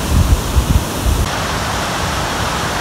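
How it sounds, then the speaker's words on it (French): A waterfall on the Rieux Claret stream roars in a steady, loud rush of falling water, with a few low thumps near the start. "Donc voici donc le ruisseau de Rieux Claret avec une magnifique cascade."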